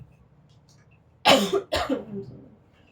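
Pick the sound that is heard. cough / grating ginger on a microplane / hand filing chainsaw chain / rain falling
cough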